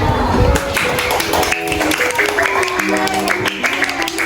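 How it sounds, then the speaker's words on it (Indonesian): A classroom gives group 2 a burst of applause, dense and continuous clapping with a few voices mixed in, loud and close throughout. "Beri aplaus untuk kelompok 2."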